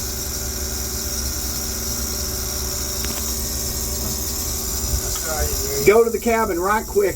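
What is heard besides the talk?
engine shuddering after overhauled valve install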